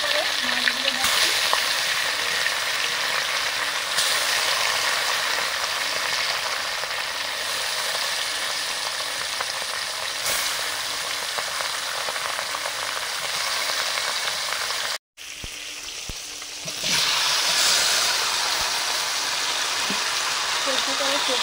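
Khoira fish frying in hot oil with turmeric, a steady crackling sizzle that runs close and constant, with a brief cut partway through before the frying resumes.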